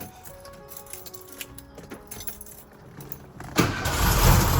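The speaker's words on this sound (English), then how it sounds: "engine starts right off" The starter cranks on an old car, the daily driver of a 91-year-old woman since it was new, and the engine fires at once into a loud, rough idle. Keys jingle faintly before it catches.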